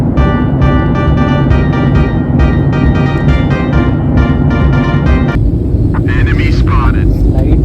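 Steady, loud cabin drone of an airplane in flight, a continuous broadband roar filling the whole stretch with slight tonal hum, no speech over it.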